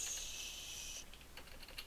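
A computer keyboard is typed on in a short, quick run of light clicks, faint and close, following a steady high hiss.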